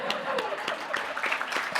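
Audience applause at a seminar presentation: a short, fairly quiet patter of clapping from a room of people, with a voice talking over it.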